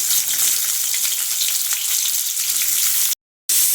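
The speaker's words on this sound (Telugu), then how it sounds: "ఇప్పుడు దానిలోనే దొండకాయ ముక్కలు కూడా వేసుకొని ఈ ముక్కలు కూడా బాగా మగ్గనివ్వాలి" Ivy gourd (dondakaya) pieces fry in a pan with a steady, bright sizzle throughout, broken by a brief dropout near the end, with no voices.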